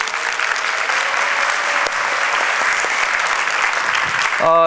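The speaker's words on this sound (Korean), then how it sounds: "박수 한번." A church congregation claps loudly and continuously for the worship band during a service, dense even applause filling the room, with a brief voice or tone rising at the very end.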